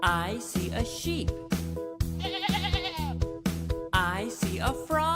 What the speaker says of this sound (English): I see a sheep.